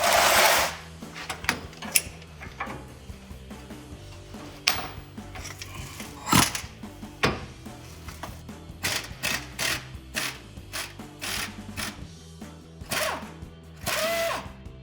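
Mechanical clicking and rattling from a ratchet working a control arm bolt on a Jeep Wrangler TJ, in irregular bursts of fast ticks with pauses and clanks between.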